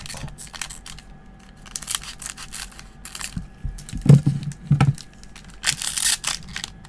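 Scissors cut open a 2022 Topps Pristine MLB baseball card pack, giving crisp snips and scraping crinkles of the wrapper in uneven bursts, close and fairly loud, with quiet pauses between cuts.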